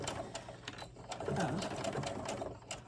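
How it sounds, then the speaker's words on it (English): A sewing machine stitches a seam on an 18-inch doll dress, a steady fast mechanical whirr with rhythmic needle ticks, close and fairly quiet, running continuously throughout. "now I'm going to sew up this seam"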